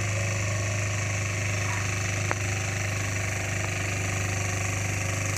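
A motor engine of a small farm tractor preparing a rice field runs steadily with a constant low hum and a rattling vibration, close and unbroken, with one brief click partway through.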